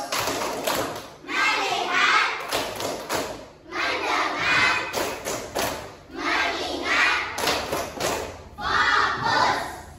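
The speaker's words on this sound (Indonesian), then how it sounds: "Ayo kita dulu tepuk fokus." Rhythmic group clapping by children doing the tepuk fokus routine in a classroom, bursts of claps and thumps in counted patterns separated by brief pauses, loud and close.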